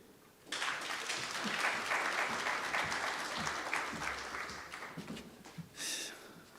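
Audience applause rises abruptly and holds as a dense, loud wash of clapping for several seconds, with a fresh burst near the end, at a live football cup draw evening.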